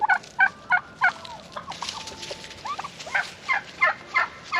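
Turkeys on a farm where chickens are kept gobble nearby in loud, rattling bursts, several calls in a row with softer clucking sounds between them.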